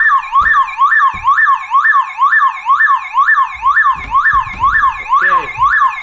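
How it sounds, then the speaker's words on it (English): Toyota Camry car alarm siren wailing loud and close in a steady repeating up-and-down sweep, with a few clicks and handling knocks underneath. "this is like demonstration that how this alarm activates"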